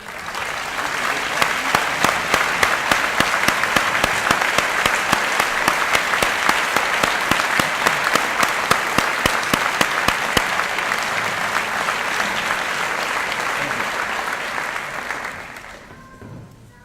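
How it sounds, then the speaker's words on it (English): Sustained audience applause at a Johns Hopkins School of Medicine convocation ceremony honoring faculty, a dense crowd clapping loudly and evenly for about fifteen seconds before tapering off, no talk over it. "may I ask everyone to join me in a round of applause for these faculty members?"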